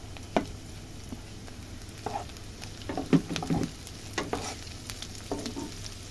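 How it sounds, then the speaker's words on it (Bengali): Chopped ginger and chili frying with already-browned onions in a pan, a soft steady sizzle broken by scattered stirring scrapes and taps. "এবার আমি এর মধ্যে দিয়ে দেব আদা কুচি আর লঙ্কা কুচি"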